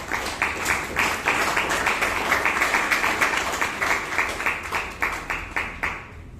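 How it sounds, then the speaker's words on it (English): Audience claps at a Toastmasters club meeting in Bangalore, a lively round of applause from a modest crowd in a room, steady and close, tapering toward the end. "Give a great round of applause for her elevation of the club"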